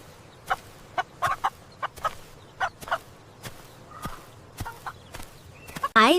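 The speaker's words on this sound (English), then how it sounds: "H is for hen." A hen clucking in a series of short, separate bursts spaced through the stretch, fairly close, with a quiet background and a louder flurry of calls at the very end.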